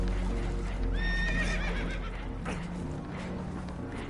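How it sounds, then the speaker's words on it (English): Spooked horses whinny and neigh in Red Dead Redemption 2 aboard a boat taking on water, a clear rising whinny over a constant low rumble and hooves shuffling. "Horses are spooked, and we're taking on water."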